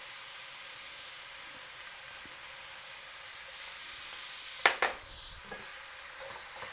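Onions sauté in a pan of oil for Chennai-style mutton biryani, giving a steady close sizzle and hiss, with a couple of stirring scrapes partway through.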